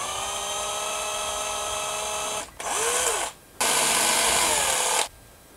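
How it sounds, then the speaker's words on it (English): Small power drill boring tiny holes with a 1mm bit through thin metal wings for a topwater crawler fishing lure; a steady high whine in two close, loud bursts separated by brief pauses, no talk. "And I'm using this 1mm drill bit."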